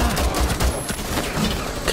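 In Rainbow Six Siege, dense rapid gunfire rattles without a break for two seconds, loud and close.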